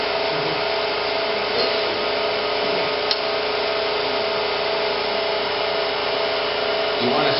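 A wooden bud vase spins on a lathe while a tool rubs and scrapes along its surface, producing a steady, continuous whirring hiss with slight swells and no pause.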